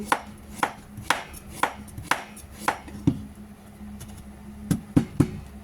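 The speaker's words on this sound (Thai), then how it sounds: "ฟักทองเราหั่นชิ้นขนาดนี้ได้นะคะ" Knife chopping pumpkin into pieces on a cutting board in a home kitchen, about ten sharp, evenly spaced chops close by, a few landing in quick pairs near the end, with no voices.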